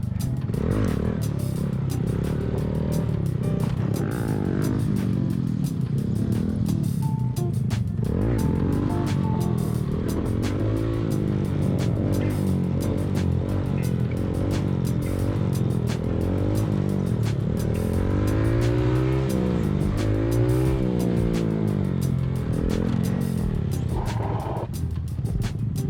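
A stunt-practice motorcycle's engine revs repeatedly and close, rising and falling in pitch over a steady running drone, with some clatter and scraping mixed in.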